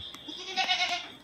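A goat bleats a few times in quick succession, fairly close and moderately loud, with no one talking.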